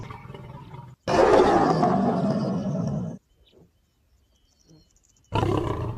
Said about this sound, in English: Lions roar to mark their territory and warn rivals or solitary males to stay away.